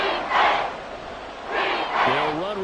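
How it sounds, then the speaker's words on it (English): A football stadium crowd roars and cheers in loud, swelling waves during an NFL game, with a voice coming in over the noise near the end. "this crowd doing their best to make a lot of racket"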